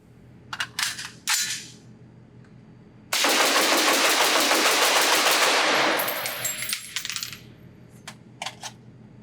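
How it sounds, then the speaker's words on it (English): Rapid mag dump from a 20-inch 6mm ARC precision AR rifle (Cobalt Kinetics SPR Elite) at an outdoor range: a few separate shots, then a dense three-second burst of fast, loud fire, then scattered final shots and echoes. "Let's shoot this gun as fast as I can in a single mag dump"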